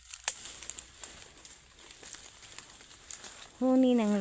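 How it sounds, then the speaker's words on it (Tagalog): Birds call in a farm field, with small scattered chirps over a soft outdoor background and a louder, clearer tonal call rising near the end. "Tingog ng huni sa langgam."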